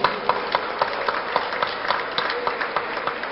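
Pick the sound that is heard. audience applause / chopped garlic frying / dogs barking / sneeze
audience applause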